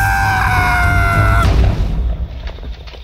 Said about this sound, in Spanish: Tras la explosión del creeper